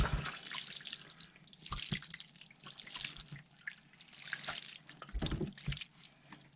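Water poured over a worm compost bin of European nightcrawlers, close and fairly quiet, with uneven splashes, trickles and drips that swell and fade in bursts, with no speech.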